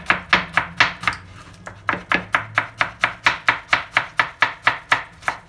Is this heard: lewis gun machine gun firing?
no